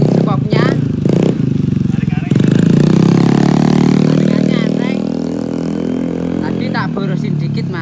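A Yamaha Mio scooter engine revs loudly up close on a test ride, a strong rising then falling drone with clattering bursts, while someone talks over it at the start.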